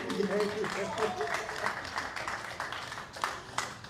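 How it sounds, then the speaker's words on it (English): A crowd claps in a scattered round of applause while a voice speaks over it, and the clapping grows more noticeable toward the end. "Can we get another round of applause for our Kawi Mishizaki?"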